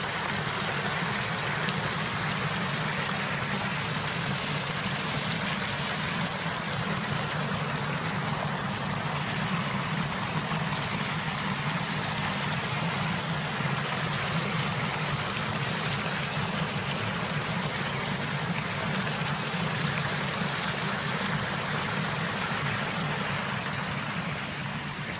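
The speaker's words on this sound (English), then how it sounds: "We've got a waterfall here." A waterfall beneath a road in Suffolk pours in a continuous, dense rushing roar that holds at an even level from start to finish, close by and uninterrupted.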